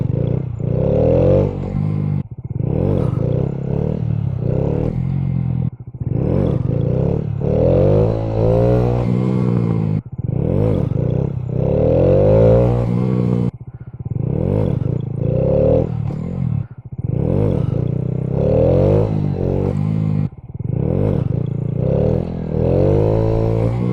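A 2015 Honda Grom motorcycle revving repeatedly during wheelies, its small engine rising and falling in loud, close throttle bursts separated by brief drops, the pattern repeating steadily.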